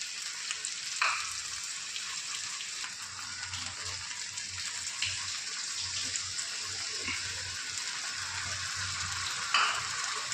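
Chicken masala with turmeric and salt sizzles and fries steadily in a pan after a little water is poured in, with faint stirring clinks and a low hiss that stays continuous throughout, no talking.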